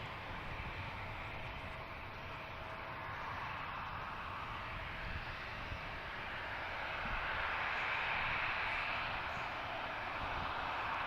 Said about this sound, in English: Next arrival is Delta Connection from LaGuardia.